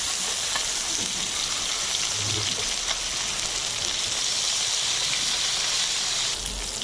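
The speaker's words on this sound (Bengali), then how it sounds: "মাছগুলো বেশ ভারী, তাই একটু উল্টে পাল্টে ভেজে নিতে হবে।" Koi fish fry in a pan with hot oil, making a steady, loud sizzle and hiss that continues throughout, with no talking heard.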